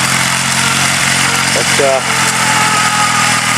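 A lawn tractor with a twin-cylinder Kohler engine, fitted with chains and wheel weights, idles with a steady low mechanical drone close by while someone talks over it.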